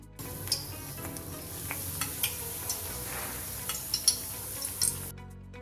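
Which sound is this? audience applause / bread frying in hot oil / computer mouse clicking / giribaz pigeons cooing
bread frying in hot oil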